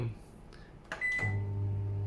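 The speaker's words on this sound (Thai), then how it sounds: "ปล่อยให้ไมโครเวฟทำงานไป 10 นาทีนะครับ" A microwave oven is started: a short electronic beep, then its steady low hum begins and continues close by, after a brief moment of voice at the start.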